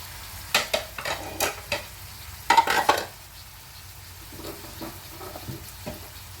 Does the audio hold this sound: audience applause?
no